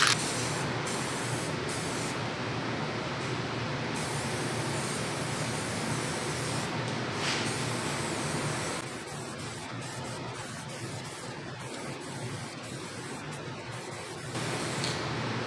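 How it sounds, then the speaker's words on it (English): An aerosol spray paint can hisses almost without a break while pastel paint goes onto flip-flops and screws for an entryway art piece. The spray is steady and close, with a short dip partway through before it starts again. "So let's get spraying."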